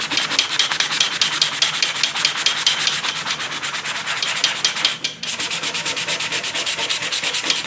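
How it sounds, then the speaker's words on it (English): Sandpaper scuffs a 1969 Mustang fender in fast, continuous back-and-forth strokes, a loud close rasping that pauses for an instant midway before resuming at the same brisk rhythm. "I'm going to clean those up a little bit with just using the sandpaper. What I mean is I'm just going to scuff it."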